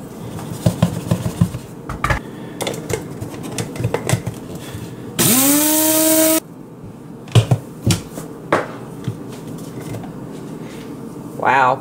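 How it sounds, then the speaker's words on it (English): A spice grinder powdering a springtail food mix gives one short, loud whirring burst as the motor spins up, surrounded by nearby clicks and handling noises. "I'm gonna break it down a little bit further. A spice grinder."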